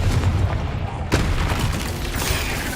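A Bombarda explosion spell goes off in Hogwarts Legacy as a sharp, loud boom about midway, set amid dense, noisy game combat effects.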